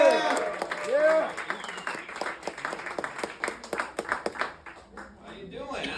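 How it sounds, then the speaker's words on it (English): An audience at a stand-up comedy show claps and cheers, a burst of dense clapping that thins into scattered claps, with voices and whoops over it. "Start clapping and get really loud for Dante Gonzalez, everybody."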